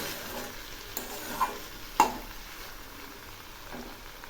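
Ground cumin and ginger paste stirred in a frying pan, quiet steady sizzle with a few faint scrapes and light taps of the spoon.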